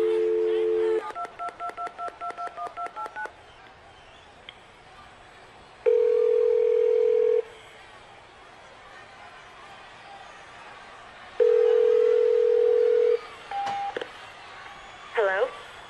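Touch-tone telephone dialing during a WWE SmackDown broadcast: a quick run of about eight DTMF keypad beeps, then long steady tones twice, close and loud with crowd noise faint beneath.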